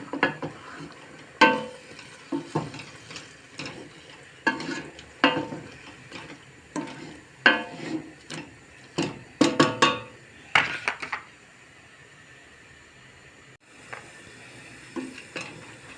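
Salted broad beans are stirred in a pan with a spoon, making irregular scraping and clattering strokes over a faint sizzle. Near the end there is a pause, then a few more stirs.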